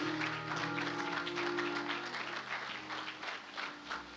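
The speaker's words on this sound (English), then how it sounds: "clap your hands and give the Lord a hand praise right there" A church congregation clapping their hands in praise, a soft, steady patter of many hands at a distance under a sustained musical tone.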